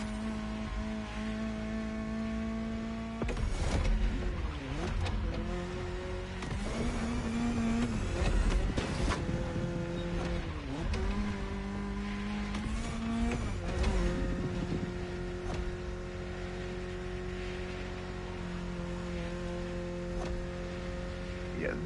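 A car in The Crew Motorfest racing game drones with a steady engine tone, rising and falling through revs and gear shifts, heard under a voice.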